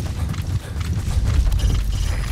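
Horse hooves pounding rhythmically at a gallop in the open-world stealth game Metal Gear Solid V: The Phantom Pain, close and continuous with a rumbling low thud under each stride.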